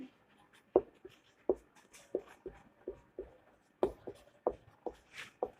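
Chalk or marker strokes on a board during a chemistry lesson, a quiet series of sharp taps and short scratches in an uneven rhythm, close up with little else audible.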